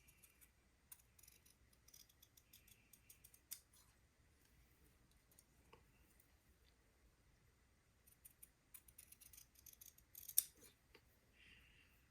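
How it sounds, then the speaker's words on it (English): Quiet snips of fabric scissors cutting cloth, irregular crisp clicks spread over several seconds, close and faint, with no voices. "with my fabric cutting scissors, I will cut 1/8 of an inch off the bottom of the shorts"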